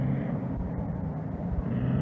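Race cars on a speedway track, among them an Offenhauser-powered car, give a continuous low engine rumble heard from a distance, with no talk over it.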